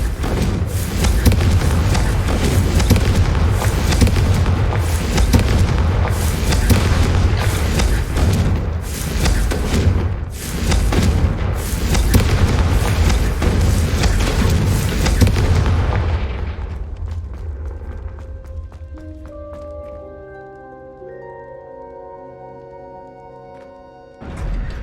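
Confringo explosion spells in Hogwarts Legacy blast again and again, a long run of loud booming bursts over rumbling low end that stops abruptly, leaving quiet tonal game music and a faint closing thud.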